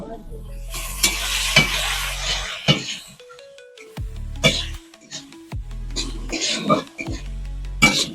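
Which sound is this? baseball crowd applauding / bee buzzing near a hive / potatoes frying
potatoes frying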